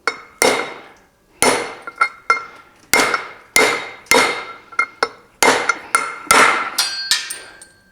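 A hammer strikes a socket to seat a front drum bearing race on a 1973 VW Thing, about a dozen sharp metallic blows with ringing decay, spaced irregularly and growing more frequent toward the end, with no talking.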